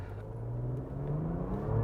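A Porsche Macan accelerating from a standstill in normal mode, the engine note rising steadily and strongly, heard from inside the cabin, building in loudness over a couple of seconds.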